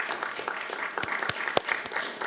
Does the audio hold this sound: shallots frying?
no